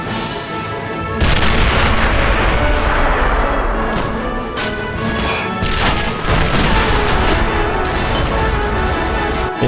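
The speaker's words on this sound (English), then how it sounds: "Some background artillery support from the rebels." Rebel artillery fires in a toy war battle, one heavy boom after another in a dense, loud barrage with crashes and rumbling blasts that go on for the length of the clip, no voices over it.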